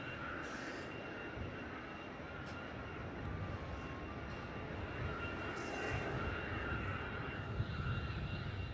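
A Cebu Pacific airliner takes off from runway 34 at Melbourne Airport, a steady broadband engine roar that holds at moderate distance and swells gently toward the end, with no voices.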